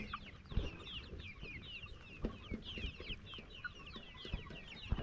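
Improved kienyeji layer chickens on a poultry farm cluck and chatter steadily, with many overlapping calls from a flock at close to moderate distance and no talking.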